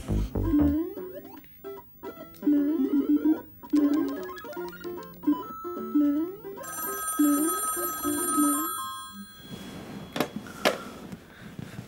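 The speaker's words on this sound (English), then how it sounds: "answer your bloody phone" A telephone bell rings in repeated bursts at close range, filling most of the short scene with its jangling trill before dropping away into a brief clatter near the end.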